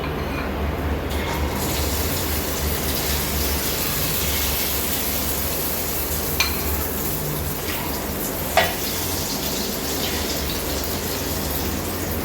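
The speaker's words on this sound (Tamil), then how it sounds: "இப்போ ஆயில் சூடாகிட்டு நம்ம கலக்கி வச்சுருக்க மாவு சேர்த்துருவோம்." Egg paniyaram batter poured into hot oil, giving a steady, loud sizzle that fills the whole stretch, with a couple of brief clinks near the end.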